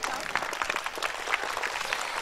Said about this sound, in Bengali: খুব জুড়ে ওদের জন্য একটা হাততালি হয়ে যাও।